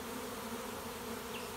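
Late-season honeybee swarm buzzing outdoors, a dense, steady drone of many bees close to the microphone, continuous and unbroken for a brief moment.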